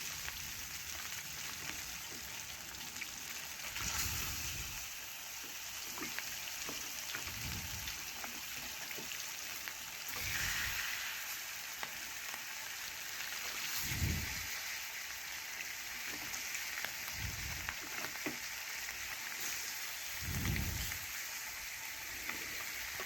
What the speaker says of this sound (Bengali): এখন মাছগুলো এক এক করে তেলের উপরে দিয়ে দিচ্ছি